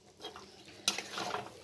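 Chicken cheese pasta is stirred in a pan: quiet scraping and a sharp utensil clink against the metal, over a low sizzle.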